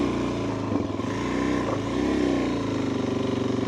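A motorcycle engine drones steadily up close as a beginner rider climbs a gravel hill, with the rear wheel slipping, the pitch wavering slightly with throttle changes.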